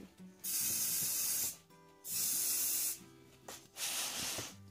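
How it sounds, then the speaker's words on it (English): Three loud, steady hisses of a spray can, each lasting about a second, separated by short pauses with faint clicks and handling noise. "Just spray a bit from far and just quickly,"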